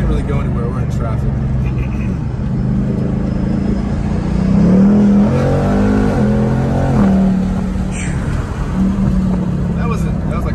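A 2021 Ford Mustang Mach 1 with the Handling Package accelerates at half throttle in sport mode through traffic, its engine note swelling to a loud mid-clip surge before easing back, with voices talking inside the cabin.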